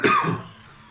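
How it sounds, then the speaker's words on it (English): A single harsh cough bursts right into the microphone during a Warhammer II Total War play session, loud and close, followed by a short throaty rasp that trails off into quiet. "Sorry about the coughing to the microphone"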